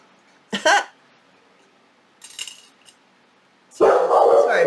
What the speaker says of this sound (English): They're barking at something outside.